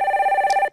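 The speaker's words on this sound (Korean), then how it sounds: "첫 번째 전화부터 받아보도록 하겠습니다" A telephone rings for an incoming call on a live stock-consultation broadcast, with a steady pulsing electronic ring that sounds close and clear before it cuts off.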